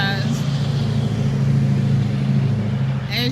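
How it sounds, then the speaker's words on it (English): Steady car traffic rumbles through a suburban garden, a continuous low engine drone of passing vehicles, fairly near and constant. "we're in a suburban area, so there's always cars, always traffic"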